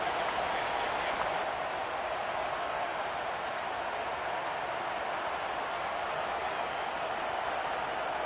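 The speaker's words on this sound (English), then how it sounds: "How about some applause for the defense there?" Steady crowd applause and cheering fills a football stadium after a defensive stop in a Lions game, a broad continuous wash of clapping that holds at an even level throughout with no distinct voices.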